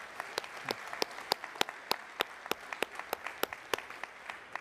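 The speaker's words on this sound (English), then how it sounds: "let's give our finishers, top finishers for both male and female categories, another big round of applause" An audience at an army summit and exposition applauds for race finishers, the claps sounding as sparse, sharp, evenly spaced strikes over several seconds in a large room.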